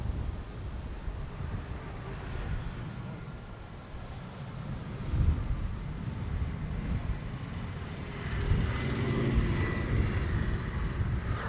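An Airbus A220 airliner lands in a crosswind on the Polderbaan, runway 18R at Amsterdam Schiphol, its broad engine roar swelling and rushing past amid heavy wind buffeting on the microphone.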